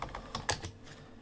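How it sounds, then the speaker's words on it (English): Quick clicking keystrokes on a computer keyboard, a short burst of several close, light taps. "My typing, sorry."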